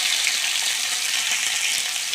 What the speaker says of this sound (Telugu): ఆనియన్స్ వేగిపోయినాయండి. అందులో ఎండుమిర్చి కూడా బాగా వేగిపోతుంది. ఇప్పుడు టమోటాలు వేసుకునేస్తామండి.